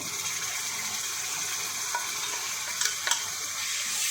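Ground tomatoes hitting roasted garlic frying in a pan for tomato garlic chutney, a steady hissing sizzle throughout with a couple of faint stirring clicks near the end, no voices.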